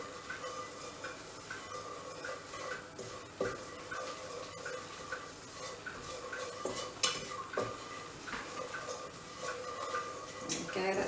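Spices cooking in oil in a pan while being stirred, with a soft steady sizzle and repeated scraping and clinking of a utensil against the pan, fairly close and quiet.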